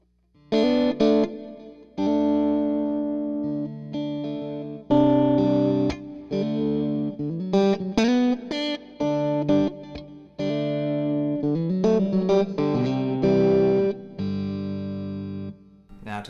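Electric guitar, a new 2023 PRS SE model, played through the coil-tapped neck pickup: a run of sustained chords and single notes with short gaps between phrases, close and clear with no voices.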